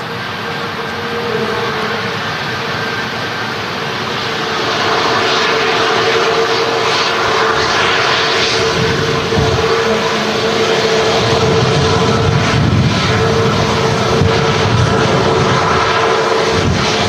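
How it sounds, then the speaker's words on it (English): A Malta Air Max jet slows on the runway at Manchester Airport under idle reverse thrust, a loud sustained engine roar with a steady whine that swells partway through. "Malta Air Max. Using idle reverse there, slowing the aircraft down."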